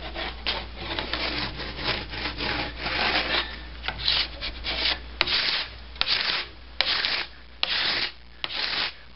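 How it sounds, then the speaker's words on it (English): Edge cleaner scraping excess wax off the metal edge of a snowboard, a series of close, loud rasping strokes in a steady back-and-forth rhythm, each stroke separated by brief pauses, with no voices. "Now we're just going to go through with this edge cleaner. Just get the excess wax off the edge"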